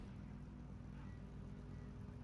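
Racing car engines at a start at the Nurburgring in a sim racing game, a dense low droning roar of many engines, steady and muffled, with no talk over it.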